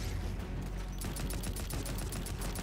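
A non-upgraded tier 3 weapon fires in MW3 Zombies as a rapid, faint burst of repeated shots, becoming a steady automatic rhythm in the second half.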